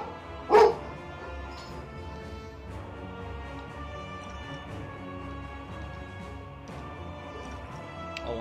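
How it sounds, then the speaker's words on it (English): A dog lets out a single sharp bark early on, then only a low background hum follows for several seconds with no further barking. "Of course, the dogs go crazy right now."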